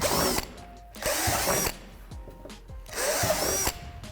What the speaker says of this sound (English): Flip the slide over and drill 3 holes at the top of the slide.